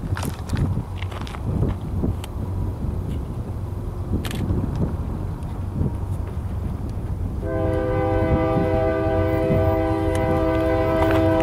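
An eastbound freight train rumbles past at Daggett, with steady wheel and engine noise building until a loud, sustained multi-tone horn sounds near the end.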